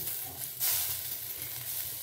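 Neem leaves dry-roasting in a dry pan without any oil give a close, steady crackling hiss with a slight surge partway through, alone with no voices.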